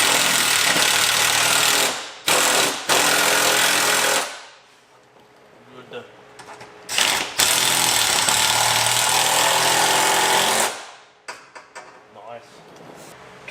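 An impact wrench hammers loose the fuel tank strap bolts on an old Oldsmobile Cutlass muscle car stored for 33 years, loud rattling bursts of a few seconds each separated by quiet gaps, close up in a garage.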